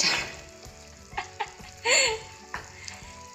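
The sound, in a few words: chicken fajita strips frying and stirred in pan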